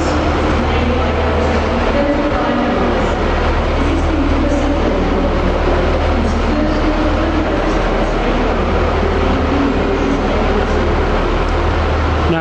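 A train arriving at a station rumbles loudly and continuously close by, with a steady low roar and rattling wheels throughout.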